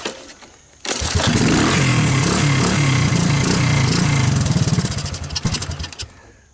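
A 1984 Honda ATC200S three-wheeler engine fires up on starting fluid, then runs loud and steady with a rough, throbbing idle for about four seconds before it sputters and dies.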